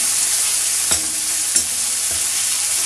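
A slotted spoon stirring Peking beef in a pan, a steady loud sizzle of frying with a few soft scraping knocks of the spoon, close up and no voices.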